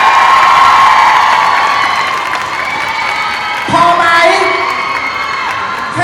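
A crowd of fans cheers and shrieks for two brand ambassadors at a Smooth E presenter event, loud high-pitched screaming and whoops that swell again near the end.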